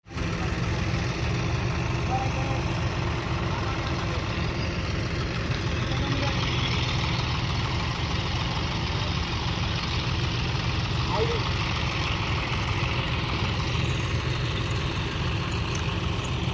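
A 5075 CRDi tractor idles in deep paddy-field mud beside a harvester, giving a steady, low diesel drone with a faint knocking rhythm that runs unchanged at moderate distance throughout.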